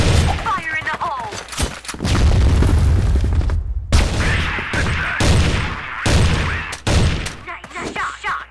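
Video game grenade blasts and bursts of gunfire, loud and close, arriving in several heavy booms separated by short gaps, with voices calling out between them.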